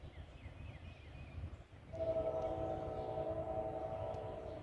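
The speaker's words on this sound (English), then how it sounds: "I hear him blowing a horn down there." A train at the bottom of a hill, heading up toward a bridge in the morning, sounds a long, steady horn blast after a low rumble. The sound is faint and distant, with no talking.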